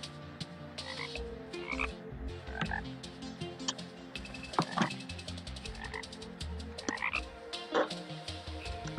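Frogs croak from a Terraria game world, repeated chirping calls at irregular intervals, fairly close, over a steady ambient music bed with no talking.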